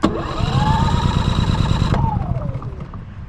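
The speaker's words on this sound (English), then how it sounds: "got connected to the generator here, and we're gonna go ahead and give it a start" A Champion 4500 dual fuel generator running on propane cranks with its choke set, catching into a rising mechanical whine for about two seconds before sputtering out and winding down, close up.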